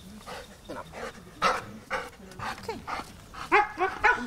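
A Belgian Malinois search-and-rescue dog yelps and barks in short, irregular bursts, close by, with a few whining notes between the louder calls.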